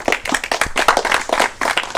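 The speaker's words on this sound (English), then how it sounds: "Please give a big hand of applause to him." Audience clapping for a school science-fiction competition contestant, a dense crowd applause that stays steady and loud for the whole stretch with no talk over it.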